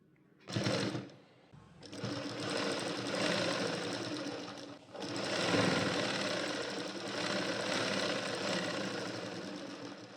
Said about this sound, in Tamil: 1/2 இன்ச்சு கிட்ட துணியை வெளியில் மடித்து விட்டுட்டு பேக் சைடில் இப்போ ஸ்டிச்சஸ் போட்டுக்கலாம்.